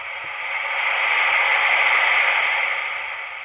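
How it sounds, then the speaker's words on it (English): White noise from an AairHut portable sound machine: a steady, loud hiss that fades in smoothly and holds evenly throughout, with nothing else heard. "And number 6 is white noise."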